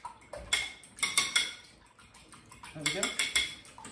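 Battenberg cake ingredients are whisked in a bowl, with quick clinking taps of a whisk against the bowl in two short bursts, under brief casual talk.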